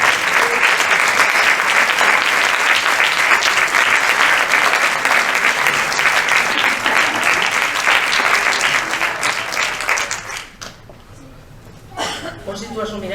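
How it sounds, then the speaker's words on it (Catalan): Audience applause at a film festival award presentation, loud continuous clapping from a crowd lasting about ten seconds, then dying away as people begin talking. "Un aplaudiment"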